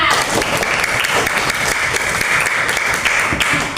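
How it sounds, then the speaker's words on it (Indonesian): Children in a classroom clap together in steady, dense applause throughout, loud and close, filling the room during a coding lesson, with faint voices mixed in underneath. "Tepuk tangan buat kalian semua"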